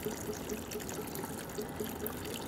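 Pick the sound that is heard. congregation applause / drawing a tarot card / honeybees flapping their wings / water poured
water poured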